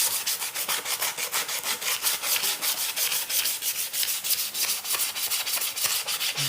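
Painted wooden furniture or a decorative wooden piece being sanded by hand to give a distressed, worn finish: a steady run of rapid rasping back-and-forth strokes, close and fairly loud, with no talking.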